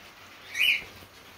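Small birds in a back aviary, with a single brief high chirp rising to a quick peak before fading against a faint, quiet background.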